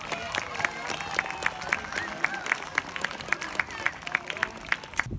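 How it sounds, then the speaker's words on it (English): A school assembly crowd applauds a winning girls' team, steady clapping filling the hall in a continuous patter throughout. "So can we give them a big round of applause,"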